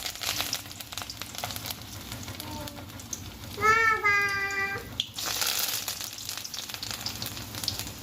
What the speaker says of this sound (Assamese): তেলখিনি গৰম হৈছে, এতিয়া মই বৰাটো লাহে লাহে এটা এটাকৈ দি দিম।